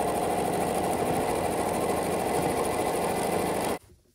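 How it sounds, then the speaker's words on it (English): A sewing machine stitches sashing onto a layer cake quilt top, a loud steady close hum and rattle running for nearly four seconds before stopping abruptly. "we're gonna just sew this right into place"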